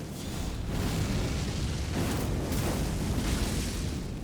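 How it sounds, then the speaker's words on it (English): A charged fire explosion attack in Elden Ring sets off a sustained, loud rumbling blast, a dense roaring burst with a second swell midway, heard alone without speech. "you'll fly towards opponents, and that's a huge explosion, big blast radius, big damage"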